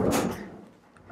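Locking paddles on the mobile base of an Axminster Craft AC216TS table saw being knocked up, a single short clattering knock that fades quickly into quiet room tone.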